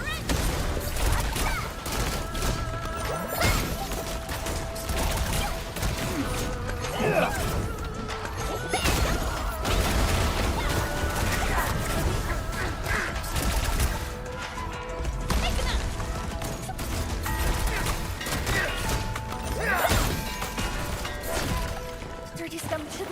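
Dense video game gunfire crackles in rapid volleys with crashes and impacts throughout, loud and continuous, mixed with voices calling out in the action.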